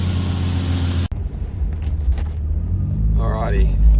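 A car with a Toyota 1JZ engine, fresh from a coil pack change, drives along with a low rumbling engine under someone talking close by.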